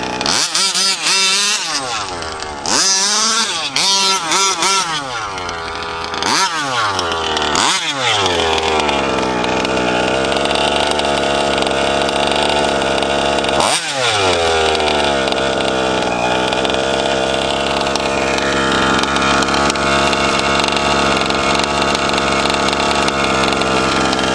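A gas-powered RC car engine screams loudly, revving up and down in several sharp bursts before settling into a steady, high-pitched buzzing drone.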